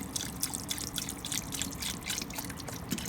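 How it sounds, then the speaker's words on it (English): Water being poured into a pot of tourtière meat filling over high heat, a steady trickling, splashing stream with wet bubbling texture, close and continuous throughout. "So now I'm adding water."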